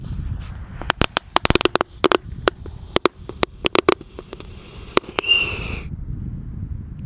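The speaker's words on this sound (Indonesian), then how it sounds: "Dan di sini ada mercon Tank Thor. Kita nyalakan ya. Kita hadapkan di lubang guys." A Tank Thor firecracker set in a hole in the ground crackles in a rapid, irregular string of sharp pops, loud and close, ending in a brief hissing whistle.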